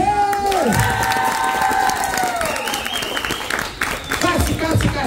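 A game-show crowd bursts into clapping and cheering for the third contestant right after a brief shouted call from the host, with the applause carrying through to the end.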